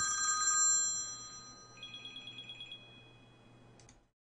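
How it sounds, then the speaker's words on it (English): A telephone rings in electronic warbling tones, first a bright burst, then a quicker pulsing trill of about eight beats, moderately near, ending in silence. "Let me take this phone call"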